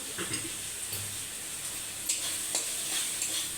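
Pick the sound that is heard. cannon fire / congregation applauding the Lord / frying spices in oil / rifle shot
frying spices in oil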